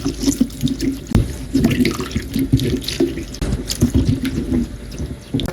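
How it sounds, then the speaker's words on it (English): Celery, cucumber and apple rinsed under a running kitchen tap, a steady close stream of water splashing and gurgling over the produce into the sink, with small knocks and handling sounds throughout. "After soaking, give everything one more good rinse under clean water."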